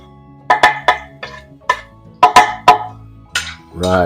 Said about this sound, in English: we're gonna have a quick stir frying of our fried rice here